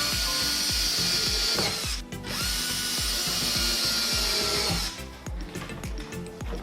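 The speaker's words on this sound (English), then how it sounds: "Screw these screws in the whole way." A power drill drives screws into the wooden frame of a kart, its motor whirring in two sustained bursts with a brief pause between, accompanied by rhythmic clicking and a final short run, close and loud.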